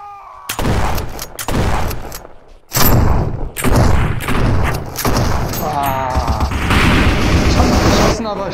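Loud bursts of gunfire and booming impacts in the VR shooter Virtual Army: Revolution, played on an HTC Vive. Repeated shots and thuds come in irregular clusters, with a player talking over them.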